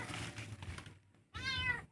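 A cat meows in a high, drawn-out wail that rises and falls. Before it comes a stretch of low rustling background noise, then a short pause.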